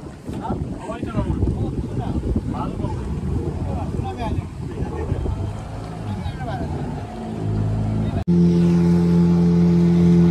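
A private motorboat ride off Devbag near Malvan on the Konkan coast, with a steady droning engine and strong wind buffeting the microphone, people talking over it, the engine note shifting to a louder, steadier hum near the end.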